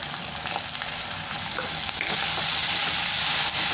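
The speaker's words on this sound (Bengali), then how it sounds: "এই টমেটোটা 1-2 মিনিট ভেজে নেব" Grated tomato frying in hot oil with curry leaves and toasted spices for Bengali aloo dum gives a steady, close sizzle that swells slightly louder partway through, with faint stirring ticks and no talk.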